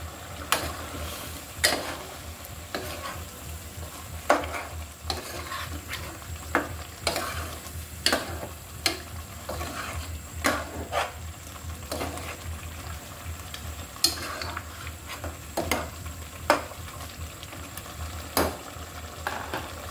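Chicken frying in a pan on a stove, with bamboo shoots and beef nearby, sizzles steadily while a spoon scrapes and stirs in irregular clanking strokes, close and moderately loud, with no talking.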